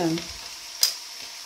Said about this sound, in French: dans ma casserole, donc on va faire revenir notre viande